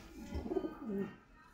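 Pigeons coo softly from a pen of quality breeding birds, a couple of low rolling calls close by, quiet and fairly brief with no other sounds over them.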